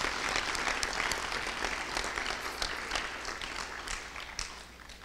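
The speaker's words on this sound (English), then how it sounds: "Let's give them another round of applause for that." Audience applause at a school board meeting, a dense burst of clapping from a seated crowd that starts strong and slowly tapers over a few seconds, with no speech.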